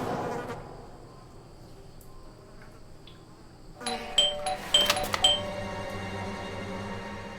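A doorbell rings inside the detective game Blues and Bullets, several bright chiming tones arriving in a brief flurry over a quiet, humming backdrop, moderately loud and near with no voices.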